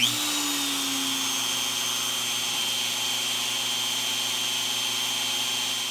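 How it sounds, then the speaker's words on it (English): A CNC router spindle for wood carving starts up and spins at a steady high speed, producing a continuous loud whine with a faint electrical hum underneath and no one speaking. "it is asking for the spindle to be turned on. So I'm going to turn that on,"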